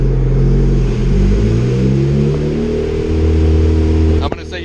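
A boosted Honda Civic engine, with PVC pipe in its intake, revs hard on a dyno pull. The loud rumbling note climbs steadily in pitch for about four seconds, then cuts off abruptly.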